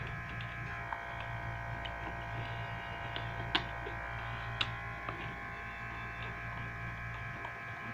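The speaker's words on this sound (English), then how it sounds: "The noise you hear in the background is one of my robots building circuit boards." A robot machine building circuit boards runs steadily in the background, a continuous low hum with faint mechanical whine and occasional small clicks and ticks, fairly quiet and unbroken throughout.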